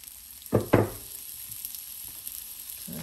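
A medium-size onion goes into hot oil in a pan, giving two quick loud sizzling bursts close by before settling into a quiet, low frying hiss.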